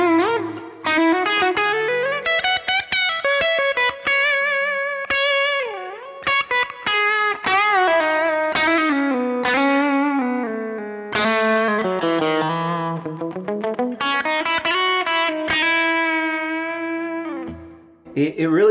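An electric guitar dialed in to sound like a Telecaster, played through a Kemper profiling amp: a bright, sustained melodic lead line with bends and slides, continuous and loud, with effects coloring the tone.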